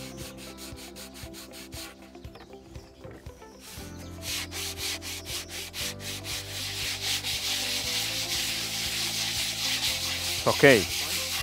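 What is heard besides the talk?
sanding a wooden chapati board with sandpaper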